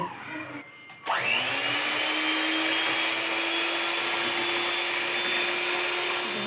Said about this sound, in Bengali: এবার এটাকে আমি আরেকবার বিটার দিয়ে ব্লেন্ড করে নেব।